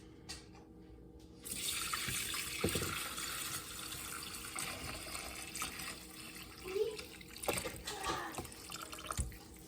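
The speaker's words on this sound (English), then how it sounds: "So I've taken my bone broth out of the Instapot, and I'm gonna strain it." Chicken bone broth poured from an Instant Pot through a strainer, a soft, steady liquid trickle with a few clinks and drips in a kitchen, fairly quiet and without speech.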